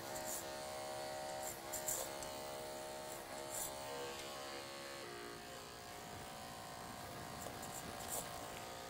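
Electric hair clippers fitted with a 1.5 blade (1/8 inch) buzz close up while cutting hair for a men's undercut fade, a steady high hum with slight pitch shifts as the blade moves through hair.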